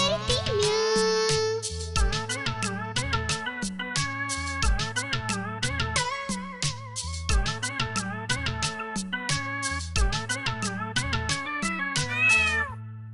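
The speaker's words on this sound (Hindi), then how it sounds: "बिल्ली करती म्याऊं म्याऊं म्याऊं म्याऊं म्याऊं" Cartoon-style cat meows repeat in a steady musical rhythm over a bouncy Hindi children's song backing track about a cat, loud and close, with no talking.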